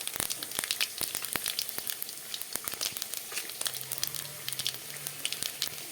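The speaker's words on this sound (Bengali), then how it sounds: "ফোড়ন দিয়ে দিলাম" Whole spices tempering in hot oil in a karahi crackle and pop close by in sharp, irregular bursts over a soft sizzle, with a faint low hum appearing later.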